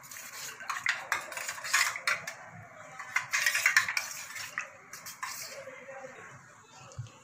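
A spoon clinks and scrapes against a bowl while turmeric is mixed, a run of light metallic taps and stirring strokes, close and moderately quiet, with faint talking.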